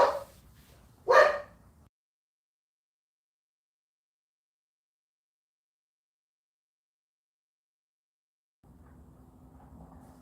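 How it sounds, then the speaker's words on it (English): A dog barks twice in quick succession close by, then a long stretch of silence gives way to a faint low hum. "This dog gotta start fucking barking"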